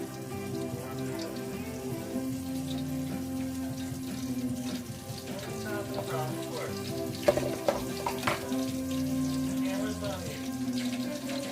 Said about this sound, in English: Drop a piece. Oh yeah, it is sizzling.